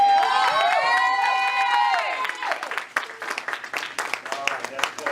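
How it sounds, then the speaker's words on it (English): A church congregation bursts into hand clapping in praise, a dense sustained burst of claps with cheering and organ-like tones at first, thinning into scattered, uneven claps that fade toward the end. "give the Lord a hand clap of praise"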